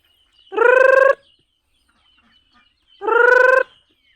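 Laying hens in the countryside give two drawn-out, nasal calls, each about half a second long, loud and close, separated by a couple of seconds of near silence.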